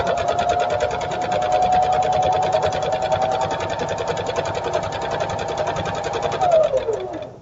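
A sewing machine stitches down a quilt seam in one close, steady run of rapid needle strokes with a motor whine, then slows and winds down at the end with no speech.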